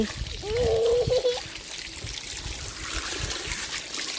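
Water being poured onto a mango tree outdoors, a continuous trickling and splashing stream under a brief voice and steady background noise throughout.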